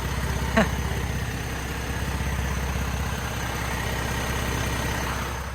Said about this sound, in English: Yeah, super quiet engine.